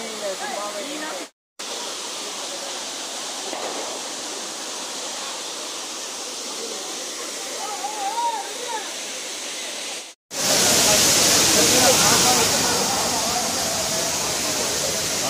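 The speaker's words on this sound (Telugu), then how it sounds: "Of the best water falls. చాలా చాలా బాగుంది." Water rushes steadily at Naganadhi Waterfalls, a continuous broadband roar broken by two brief dropouts, swelling much louder and nearer in the final seconds, with occasional faint voices beneath.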